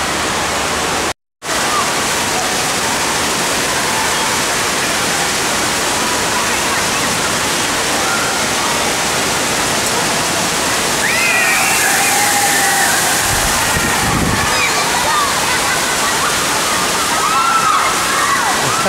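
A 1,000-gallon water bucket at a Great Wolf Lodge indoor waterpark dumps and crashes down in a loud, steady roar of falling and splashing water that fills the whole stretch, with a brief cutout near the start.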